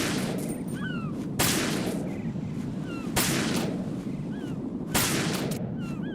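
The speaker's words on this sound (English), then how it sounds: "we took out all the sensors we can with the SOCOM" Three sharp, evenly spaced SOCOM pistol shots ring out in Metal Gear Solid 2 as sensors are shot out, heard over a steady game background with faint chirping electronic tones.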